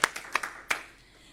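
Scattered clapping at the New Hampshire Press Association's 2020 journalism awards, a few distinct claps close by, then trailing off quickly into a quiet room.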